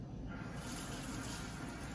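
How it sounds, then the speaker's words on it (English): Water running from a tap for hand washing, a steady hiss of flow into a sink, faint and continuous with no voices. "And then turn on the water,"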